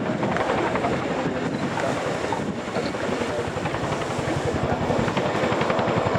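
A military helicopter manoeuvres at the RAF Cosford airshow, its steady loud rotor thump and turbine roar filling the air continuously with wind buffeting.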